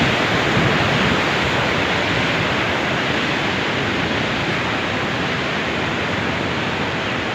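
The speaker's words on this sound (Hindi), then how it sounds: "पानी का कितना शोर है" Water roars through the Panjnad headworks on a river in Pakistan. The broadband rush is loud and continuous at close range, with no voices over it.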